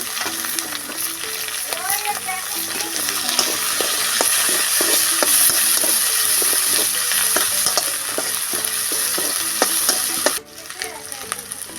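Chopped green chilies and ginger fry in hot oil for an eggplant and tomato bharta, a steady sizzle running throughout while a spatula scrapes and stirs in quick, repeated strokes, ending abruptly near the close.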